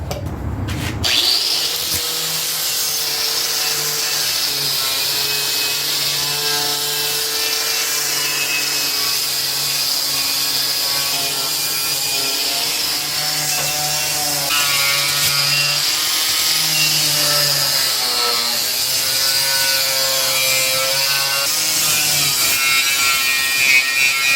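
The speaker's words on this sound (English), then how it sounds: "fastest way is with an angle grinder with a wire wheel attachment" An angle grinder fitted with a wire wheel scours rust and scale off a lawn mower cutting deck, a loud, sustained whine with a steady harsh scraping that holds for the whole stretch after a brief start.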